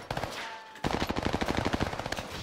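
Automatic gunfire in the Warzone video game mode Fortune's Keep, a loud rapid burst of evenly spaced shots after a brief opening crack, running continuously to the end.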